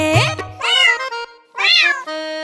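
A cat gives two loud, rising-and-falling meows in close succession, clear and near, with nothing else around them.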